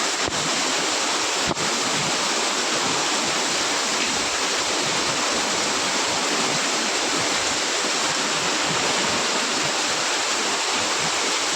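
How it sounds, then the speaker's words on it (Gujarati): Heavy monsoon rain pours steadily in Dholka, a dense, loud hiss of water that stays constant and close throughout, with no voices over it. "વરસાદ ઓછો જ નહીં થતો."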